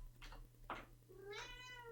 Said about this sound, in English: my cat has now entered the room.